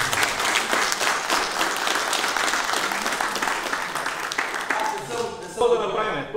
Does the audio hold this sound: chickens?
no